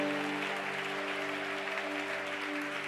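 A church congregation applauding during a service, a steady, dense clapping that carries on evenly for several seconds with a faint crowd murmur underneath.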